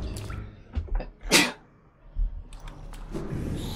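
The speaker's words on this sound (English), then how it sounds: "I'm allowed to pause for sneezes." A single sharp sneeze from a person at a microphone while gaming, a brief loud burst in the middle set among quiet breaths and small mouth noises.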